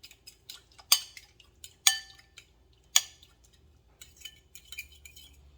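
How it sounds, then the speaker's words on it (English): A fork or whisk beats shrimp salad dressing in a bowl, sounding as soft close ticking taps with several sharper clinks against the dish over a quiet background. "You just use a fork, or you can use a whisk if you like. Mix this together"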